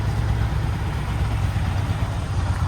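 A pair of motorcycles idle side by side nearby, their engines holding a steady, even low rumble throughout with no voices.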